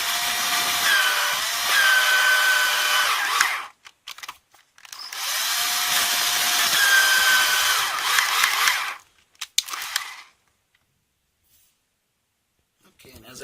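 A high-speed drill grinds gently through a metal snap on a pair of pants, in two long steady whining bursts with brief touches in between, close and loud, then stops into quiet.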